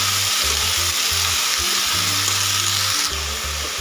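Chopped onion greens sizzling loudly in a pan as they are stirred and mixed in, a constant bright fry with intermittent low scraping and clanking from the stirring, no voices.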